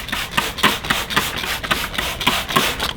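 Wet sanding of a car headlight lens with 3200 grit sandpaper: a steady, rhythmic back-and-forth rubbing, about three strokes per second, close and moderately loud with no talking.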